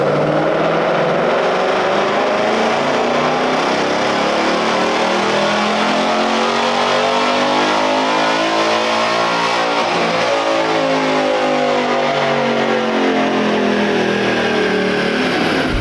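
A stock 2022 Mustang GT PP1 with carbon trap and resonator delete makes a full dyno pull, its loud engine revving steadily upward over about sixteen seconds with a continuous rising roar and no talk.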